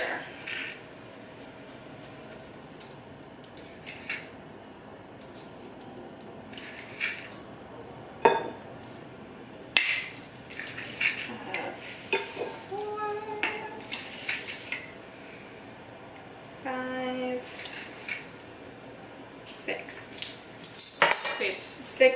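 Tablespoon clinking and scraping as six spoonfuls of sugar go onto two pounds of cut strawberries, a series of light metallic taps and clinks spread out over about twenty seconds, close up, with no talk.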